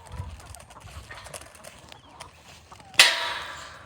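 Chickens inside a chicken coop give soft, scattered clucks and rustles, then a sudden loud squawk or flapping burst near the end, close by.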